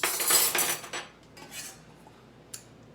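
Kitchen utensils, a fork and spoons, clink as cooking equipment is set out. A cluster of close metallic rattles comes first, then fainter clatter and one sharp clink near the end.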